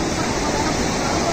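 Mountain river water rushing in heavy flood at Gaula dam near Haldwani, a steady loud roar of torrential flow filling the whole clip without pause.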